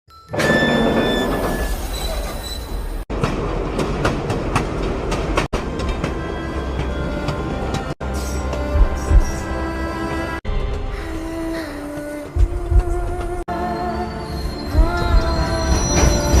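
A train runs on rails with continuous loud rumbling, rhythmic clacking and high wheel squeals, heard close and unbroken under a swelling orchestral score.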